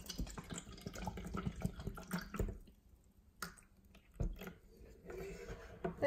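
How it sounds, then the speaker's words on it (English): Propel purified water, a Gatorade product, is poured into a glass: a close splashing pour for about two seconds, then scattered drips and small splashes after a short quiet gap. "Let's pour some water in."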